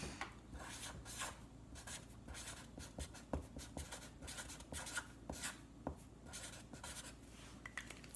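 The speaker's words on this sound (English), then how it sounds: "I'm just gonna write gratitude" A pen scratches out the word gratitude on a small jar label, with close, quiet scribbling strokes in quick bursts and a few light taps, no voices.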